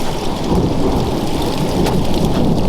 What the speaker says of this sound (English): scared of thunder